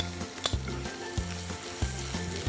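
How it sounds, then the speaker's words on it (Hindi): Ajwain, chopped green chilies and chopped ginger sizzle in very hot mustard oil, a steady close frying hiss broken by a few sharp spits and clinks of a stirring spoon, with no voices. "इस गरम तेल के अंदर जाएगा अजवाइन, चॉप्ड ग्रीन चिलीज"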